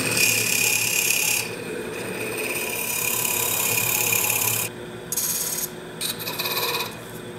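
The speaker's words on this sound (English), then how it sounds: "I'm going to just drill this out to the approximate depth." Steady, close rasping grind of a hand drill bit boring into wood while making a long-stem wooden goblet, continuous for several seconds, then breaking into short scraping bursts with brief pauses.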